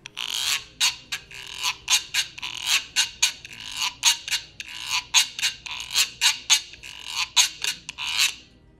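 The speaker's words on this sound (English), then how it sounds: "The Güiro." A güiro is scraped in a steady rhythmic pattern of short rasping strokes, about two per second, crisp and close, played alone with no talk.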